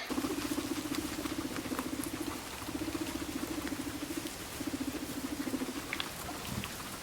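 An aging guinea pig rumble-struts: a low, pulsing purr rumbles in three bursts of about a second and a half each, soft and close, over a background of light patter.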